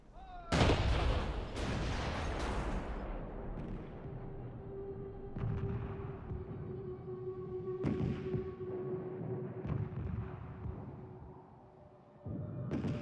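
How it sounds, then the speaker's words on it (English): World War 1 Krupp cannons firing 1-ton shells, several heavy booming blasts spaced a few seconds apart, each with a rolling rumble that lingers afterward. "To crush the fortresses, they must bring in their huge Krupp cannons that fire 1-ton shells."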